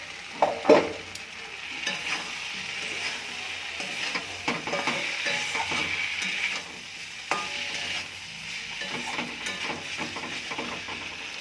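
Fried potatoes and pointed gourd get stirred into curry masala in a pan, soft sizzling under repeated spoon scrapes, a louder clatter near the start, no voices.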